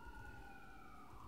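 Emergency vehicle sirens pass by outside, faint and distant, a steady high wail sustained over a low background rumble.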